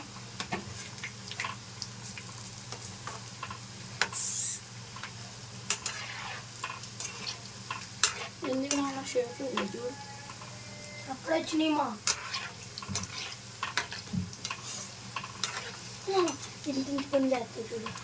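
Punugulu fritters made from leftover idli batter fry in oil as a spoon stirs and turns them, giving soft scraping and sizzling under intermittent talk.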